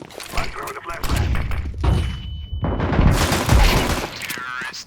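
Loud gunfire and explosive bursts from a Counter-Strike style match on the Vertigo map, with a grenade-like boom and ringing tone midway, dense overlapping shots throughout and voices talking over the action.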